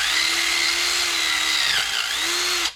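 Power drill spinning a drill bit inside a rusty brake line fitting to clean it out, a steady high whine that dips briefly near the end and then cuts off, loud and close with no talking.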